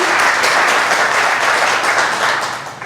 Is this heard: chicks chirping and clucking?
no